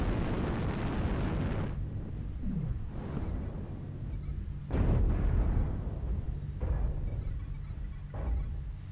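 Missile explosions in the MechWarrior Online video game make deep booming bursts. A long rumbling blast opens, and sharper, shorter impacts follow at uneven intervals, fairly loud with no talk over them.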